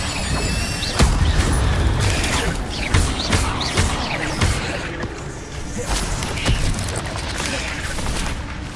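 Fire spells cast repeatedly in Hogwarts Legacy combat, a busy mix of booming blasts, whooshes and crashes in quick succession, with a voice talking over the game sounds throughout.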